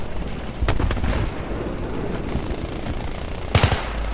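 Gunfire in the Battlefield 3 online shooter game, with bursts of loud automatic shots over a rumbling, noisy battlefield backdrop, most prominent near the start and again toward the end.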